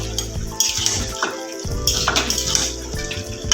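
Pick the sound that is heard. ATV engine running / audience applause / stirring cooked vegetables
stirring cooked vegetables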